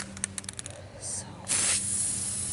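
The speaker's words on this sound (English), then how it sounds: "Spray a little bit, then shake a little bit." Aerosol spray paint can hisses onto furniture being refinished, a short burst following some small clicking sounds, near and loud.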